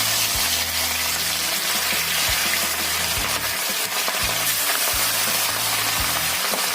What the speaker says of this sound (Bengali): আমি একবারে মাছ ভেজে নেব